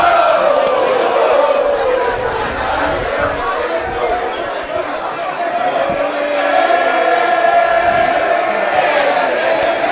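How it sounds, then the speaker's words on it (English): Gators fans cheer and shout loudly at a rugby match against Sherbrooke, a dense roaring crowd with rising yells, while a commentator talks over it. "Gators crowd here really getting into it."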